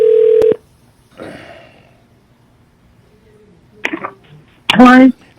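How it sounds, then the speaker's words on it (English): Telephone keypad tones dial out to return a missed call on a live talk show, with a loud burst of tones at the start and short further bursts between voices. "I'm going to try to go ahead and pull in one of the missed calls and see if we can call them back"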